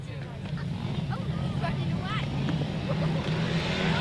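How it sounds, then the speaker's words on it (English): Speedway motorcycles at a 2002 British Masters qualifier rev steadily on the start line, a continuous engine drone under crowd noise and a commentator's voice. "Revs rise, tapes fly"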